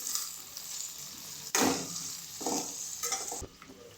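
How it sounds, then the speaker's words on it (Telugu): Onions and mint fry in a pan for mutton keema with a bright continuous sizzle, while a spatula stirs and scrapes in a few louder strokes, close up and with no talk. "మంచిగా ఫ్రై చేసుకోవాలి"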